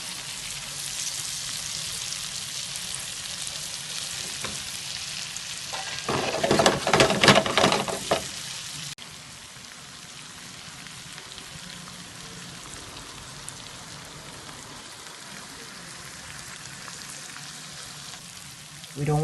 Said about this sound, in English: So we are going to add the shrimp. And we are going to leave this little babies fry.